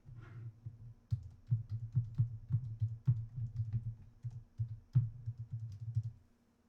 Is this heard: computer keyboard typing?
yes